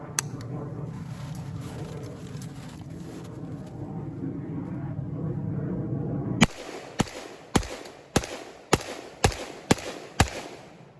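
A Zastava ZPAP M70 rifle fires a rapid magazine dump outdoors: after a stretch of background noise, about nine loud, sharp gunshots ring out in quick, slightly uneven succession, each with a short echo.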